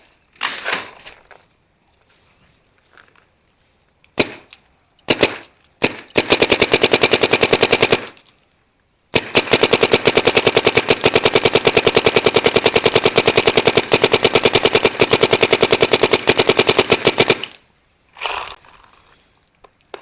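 A Dye Matrix paintball marker fires long rapid strings of shots in a backyard, a dense close crackle of shots in bursts separated by short pauses, with no voices.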